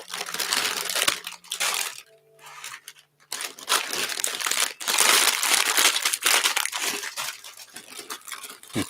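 Plastic bags of Lego bricks for a Union Pacific Big Boy 4-8-8-4 model crinkle and rustle up close as they are pulled apart, with steady crackling bursts and a few brief pauses.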